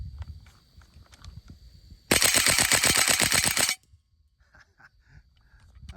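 Rapid automatic fire from an airsoft Saiga 12k shotgun rebuilt with aluminum parts, a loud steady burst of close mechanical shots lasting under two seconds between quiet handling noises.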